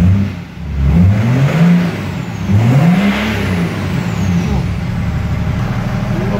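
BMW 7 Series car engine running during a start attempt, a loud low drone that rises and falls in pitch as it revs, with a steady rumble throughout and no talk over it.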